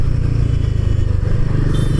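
A motorcycle rides over a potholed Indian road on a long-distance trip from Katihar to Guwahati, giving a steady, loud, low engine drone with wind buffeting and no pause in the short stretch.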